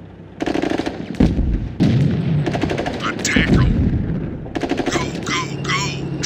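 Artillery and rapid gunfire in the World War II strategy game Sudden Strike 2, with loud bursts of machine-gun fire and deep booming blasts coming in clusters, and voices speaking between the shots.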